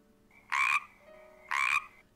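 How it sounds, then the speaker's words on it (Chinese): A green frog croaks twice, each croak a short raspy burst about a second apart, clear and close against a quiet background with a faint tone. "我看见一只绿色的青蛙在看我"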